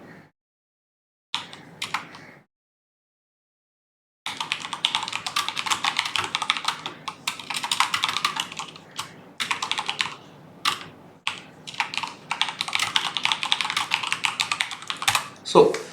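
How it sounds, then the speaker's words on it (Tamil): Rapid typing on a computer keyboard while data is entered into spreadsheet cells, a dense run of close, crisp key clicks with brief pauses, preceded by a few short isolated taps. "உங்களுக்கு ஏதாவது டேட்டா என்டர் பண்ணணும் அப்படின்னா நீங்கள் இந்த செல்லில் எந்த செல்லில் இருக்கீங்களோ அந்த செல்லில் டைரெக்டாக நீங்கள் டைப் பண்ண ஆரம்பிக்கலாம்"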